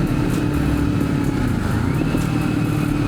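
Kawasaki Ninja 500 motorcycle engine braking through a downshift on approach to a red light, a steady loud low engine drone that continues throughout with wind noise and no voices.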